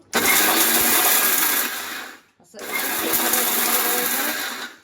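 A mixer grinder grinding garam masala spices, a loud, harsh whirring that runs in two bursts separated by a brief pause, with a short spoken word.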